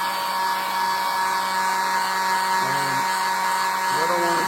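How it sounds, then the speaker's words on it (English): Hair dryer running steadily to dry primer on a carved wooden wren: a constant, even motor whine and airflow hum that keeps the same loudness throughout, with brief voice sounds faintly over it. "I'm going to use the hair dryer"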